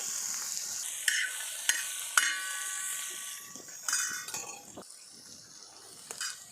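Fresh coriander is stirred into brinjal thecha frying in a pan: a soft oily sizzle with several distinct clinks and scrapes of the spoon against the pan.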